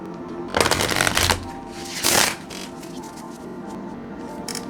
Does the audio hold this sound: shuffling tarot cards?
yes